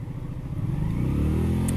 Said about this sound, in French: ça c'est du freinage